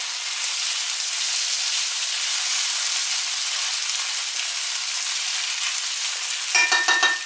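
Rice being stirred into a pan of fried vegetable sofrito, with a steady close sizzle throughout and a brief burst of scraping and crackling near the end.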